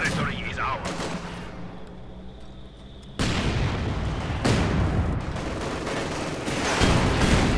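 Heavy booms and explosive crashes from German mortar fire ring out in a Company of Heroes 2 battle, amid a dense, rumbling wash of battlefield noise, and a commentator speaks at points.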